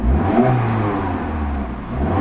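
A 2008 Chrysler PT Cruiser engine revs up close and loud, rising and falling as it runs against a rev limiter around 3,000 RPM, with nothing else heard.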